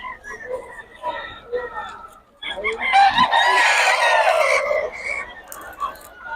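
Chickens and roosters at a Bocaue market cluck and crow loudly nearby, with one long crow rising over the others and someone talking among them.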